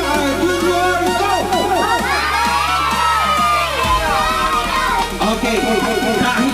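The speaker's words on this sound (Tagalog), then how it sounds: "Okay, sigaw nyo. Happy birthday, Shopper Junior, go" At a birthday party, a crowd of children shouts a loud happy-birthday greeting together with cheering and excited chatter, continuous and energetic throughout, with a steady low background tone underneath.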